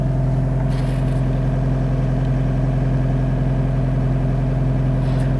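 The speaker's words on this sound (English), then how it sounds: "the engine slowly just revs up" An MG ZR engine with a faulty throttle idles with a steady low rumble, then its pitch slowly creeps upward on its own, holding a continuous drone throughout.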